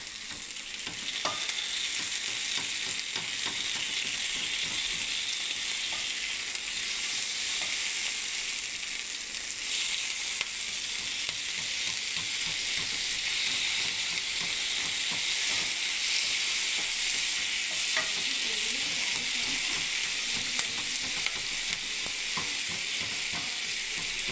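Tomato frying in a pan for a neem and brinjal dish, giving a steady, bright sizzle and hiss throughout, with occasional soft stirring scrapes and clicks close by.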